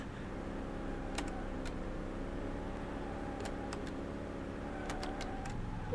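A big old American muscle car drives in Car Mechanic Simulator 2018, its engine holding a steady, continuous drone with a few brief high clicks over the top and no talking.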